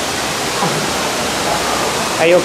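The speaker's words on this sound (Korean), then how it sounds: "여기가 치카세프 폭포입니다." Roar of the Tukad Cepung waterfall inside a cave near Ubud, Bali, a steady broadband rush of falling water that fills the whole clip, with a brief spoken question near the end.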